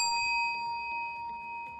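A single bell strike marks the last ten seconds of a debate answer, a clear ringing tone with bright overtones that sustains and slowly decays across the whole moment, heard alone without talk.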